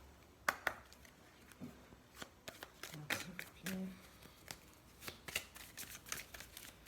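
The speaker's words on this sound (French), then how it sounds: "Carte qui est mélangée." Playing cards being shuffled and snapped in several quick riffling bursts, crisp and close, with a voice speaking intermittently alongside.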